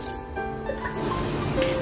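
A pot of water boils on the stove, ready for steaming rib snapper, giving a steady close bubbling and hissing with small drips and no talking.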